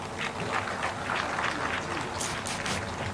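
Applause from an audience at a formal inauguration ceremony for a power generation project, a steady dense wash of clapping throughout, moderately loud and continuous without breaks.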